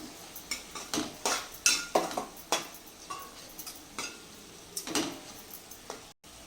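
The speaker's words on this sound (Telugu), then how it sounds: "ఒకసారి తిప్పేసుకుందాం." A spoon scrapes and clinks against a pan while stirring a prawn and onion curry made with telaga flour, in a run of close, irregular strokes that fade toward the end.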